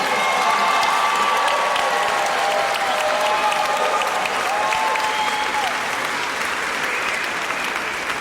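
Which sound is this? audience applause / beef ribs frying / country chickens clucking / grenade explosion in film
audience applause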